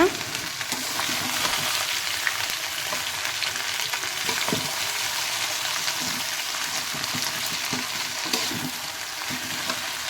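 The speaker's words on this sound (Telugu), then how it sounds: "బెండకాయ అయితే ఫ్రై చేస్తున్నాను అనమాట" Okra frying in a home kitchen pan, a steady broadband sizzle running throughout with faint clinks of stirring, no voices.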